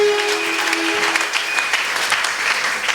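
Church congregation applauding to acclaim the Lord, a loud, even wash of clapping from many hands that continues for the whole stretch, with a faint voice briefly audible beneath it.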